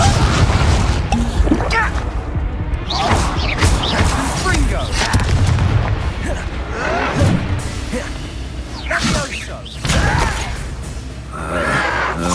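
Confringo blasting spell explosions in the Hogwarts Legacy video game, several heavy booms and crashes bursting through a dense battle mix, with voices shouting over the continuous action.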